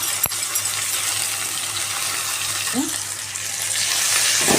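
Drumstick (munagaku) leaves drop into a pan and fry in a loud, continuous sizzle, with a sharp clink at the start and a brief rustle partway through.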